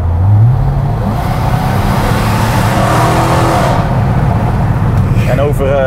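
A Dodge Hellcat on the move, its engine swelling from a deep rev into a loud, dense roar of engine and road noise, with a voice speaking briefly near the end.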